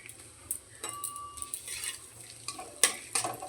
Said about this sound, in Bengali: ফোড়নটা ভালো করে ভেজে নেব